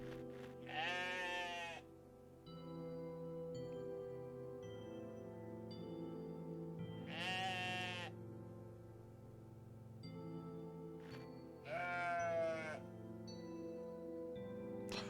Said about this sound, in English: Nice library of sheep noises for this game